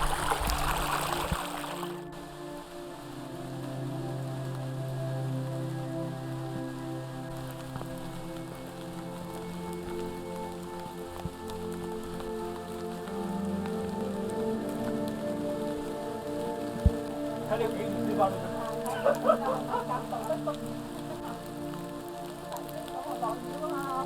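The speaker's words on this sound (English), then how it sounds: "It's raining, right?" Rain falls steadily on leaves and the ground in a forest in Tai Po Kau, Hong Kong, making a continuous, moderately close hiss with scattered drip patters throughout.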